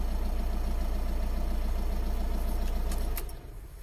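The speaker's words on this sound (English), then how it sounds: "So we just start the engine to get the oil right around the engine," A VW Transporter T5.1 engine idles right after an oil change, a steady, close, low throbbing rumble that runs evenly until it cuts off near the end, with a faint jingle of keys.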